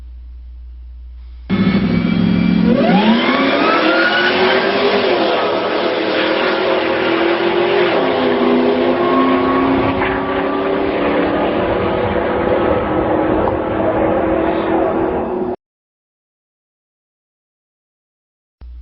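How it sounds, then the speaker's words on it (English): A Whipple twin-screw supercharged Ford Lightning truck engine revs hard and steadily for over ten seconds, a loud sustained roar with a rising whine, then cuts off abruptly. "This video is of a Whipple twin screw supercharged Ford Lightning."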